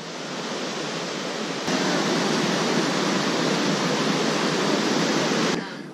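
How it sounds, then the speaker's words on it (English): A river runs through a private coffee plantation, its rushing water a loud, steady broadband roar that swells slightly partway through before cutting off at the end. "Of course, they have their own river."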